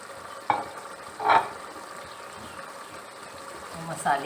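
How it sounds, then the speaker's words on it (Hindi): Spices for beef badami korma sauté in a pot, a low sizzle underneath three distinct scraping stirs of a spoon against the pan, the sounds close and fairly quiet. "मसाले को 5 मिनट तक सौटे करेंगे।"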